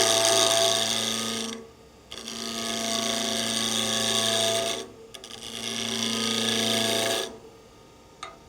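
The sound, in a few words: woodturning, cutting a small wooden nut bowl on a lathe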